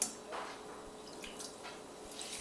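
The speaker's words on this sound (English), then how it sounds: "Dip it in a bowl of water would be good, and you can kind of mush the sponge around." A sponge squelches and swishes around in a bowl of water while being worked to mix in paint for toning paper, giving soft, quiet wet drips and sloshes with no talking.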